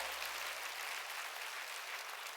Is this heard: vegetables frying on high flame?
no